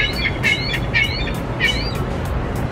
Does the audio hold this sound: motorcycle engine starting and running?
no